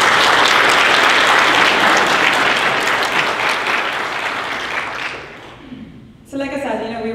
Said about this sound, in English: I really would like to ask a hand of applause for our partners